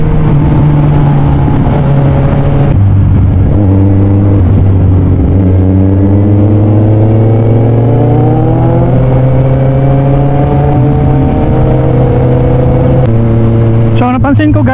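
A Kawasaki Z1000 motorcycle engine revs loud and close, holding a steady rising drone that climbs in pitch over several seconds, with sharp shifts between throttle stages and a brief burst near the end.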